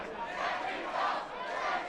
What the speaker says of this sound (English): the crowd are making their opinions thought on that